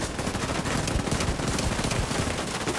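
Dense, continuous automatic gunfire rattles in The Division 2 video game, overlapping loud shots forming a steady fusillade throughout.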